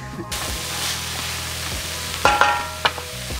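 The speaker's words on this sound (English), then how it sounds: "I'm just gonna fire all this into a frying pan, saute it for a little while." Vegetables sauté in a frying pan, making a steady low sizzle and stir with a low hum underneath and a few sharp clinks from a utensil near the end, with no one talking.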